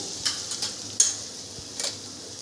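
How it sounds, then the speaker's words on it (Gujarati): Soft, steady sizzle from a pan, with a few sharp clicks and scrapes of a spoon stirring now and then. No talking. "એનો કલર બદલાય ત્યાં સુધી આપણે ડુંગળીને સાતરવાની છે"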